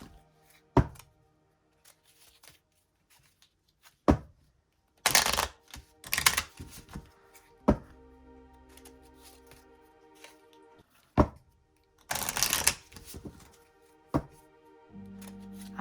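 Two decks of tarot cards shuffled by hand in sharp riffling bursts, separated by quiet pauses and soft taps of cards being squared, close and alone.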